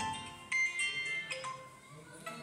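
A vivo T1x phone plays its ringtone, a faint electronic melody of short sustained tones and chimes with little else around it.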